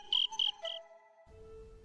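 Crickets chirp in the video game Scroll of Taiwu: three bright, short trilled bursts in quick succession, then a steady soft tone and a low, muffled hum.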